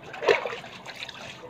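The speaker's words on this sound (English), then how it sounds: "let me like put water on the dry parts." Water is poured onto dry parts, giving a brief splash near the start followed by light trickling and dribbling that fades over a second or so, close and fairly quiet.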